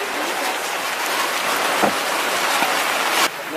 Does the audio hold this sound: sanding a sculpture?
no